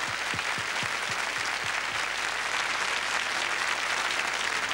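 Sustained applause from a crowd, dense steady clapping throughout with no pauses, fairly close and loud.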